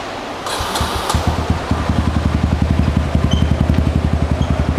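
A cheap used motorcycle is started: a brief starter whir and a few cranks, then the engine catches and settles into a loud, close, steady rhythmic putter at idle, with no talking over it.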